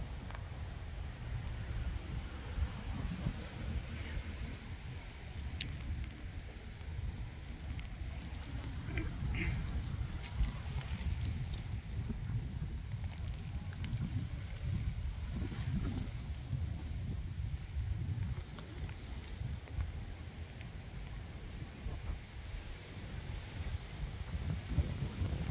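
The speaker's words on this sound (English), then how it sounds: "It's windy here." Low, rumbling wind buffets the microphone continuously under a plum tree, with faint rustling and scattered small sounds, fairly quiet overall.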